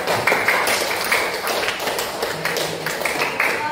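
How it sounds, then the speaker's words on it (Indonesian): A group claps in a room after a Quran reading, a steady, moderately loud spatter of hands with a few sharper claps standing out. "beri tepuk tangan untuk kita"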